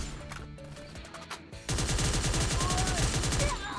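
Rapid automatic gunfire from a Free Fire battle royale match erupts halfway through, loud and sustained, after a quieter stretch of game sounds and background music.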